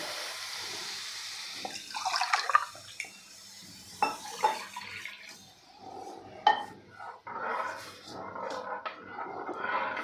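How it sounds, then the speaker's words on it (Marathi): Water pours and splashes into a cooking pan for several seconds, about one and a half glasses, with clinks of cookware and a gurgling, running-water sound, fairly close. "दीड ग्लास पाणी घालणार आहे"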